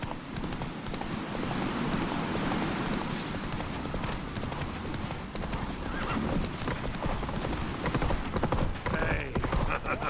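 Roach the horse gallops in The Witcher 3, hooves clip-clopping in a steady fast rhythm across the whole stretch, with an occasional whinny and a busy game soundscape beneath.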